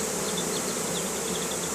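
A caught swarm of honeybees being re-homed into a hive, buzzing in a dense continuous drone close by, with individual bees whining past.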